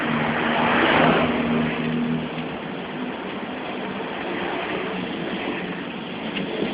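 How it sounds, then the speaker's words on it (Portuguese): A car passes on a road heard from a motorcycle rider's perspective, a broad engine and tire rush that swells near the start and then settles into steady road noise. "Carro boladão aí, ó."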